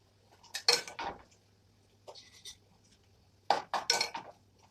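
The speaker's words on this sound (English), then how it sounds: "Now, we take our plate." A plate and cutlery handled while serving eggs, with two clusters of close clinks and scrapes of metal on ceramic and a softer clatter between them.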